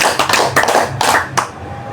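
A group of people clap hands in a counting game, with about six loud, close, sharp claps at an irregular rhythm, the last one ringing out briefly.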